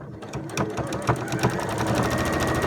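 A sewing machine stitches elastic onto a scrubs hat, running in a fast, continuous close-up whir with a steady rhythmic needle chatter that rises slightly as it goes.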